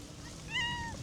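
A pregnant cat being fed fish at a seaside campsite gives a single clear, rising-and-falling meow over soft background noise.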